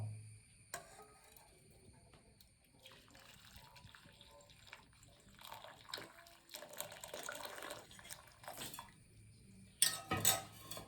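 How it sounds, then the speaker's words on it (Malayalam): Thick melted jaggery syrup trickles and pours through a strainer, with occasional clinks of metal utensils and a scrape near the end, all fairly quiet. "ശർക്കര ഒരുക്കിയെടുത്തിട്ടുണ്ട് നമുക്കിത് അരിച്ചു എടുക്കാം"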